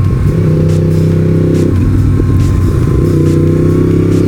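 A 2018 Yamaha MT-10 motorcycle engine roaring loud and close under hard acceleration, a steady dense growl with harmonic pitch climbing through gears and brief dips at each shift.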